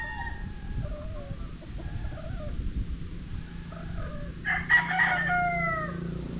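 A yellow-legged claret gamefowl rooster in a backyard poultry yard gives a crow near the end, with clucking and other bird calls over steady low outdoor rumble.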